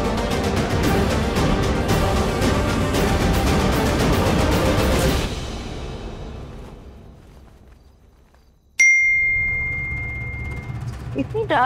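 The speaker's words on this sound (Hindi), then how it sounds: "रात में किसका मैसेज आ रहा है?" A phone message notification in a Hindi TV drama at night: a single sharp chime with a lingering tone rings out after loud background music fades to near silence, followed by soft score.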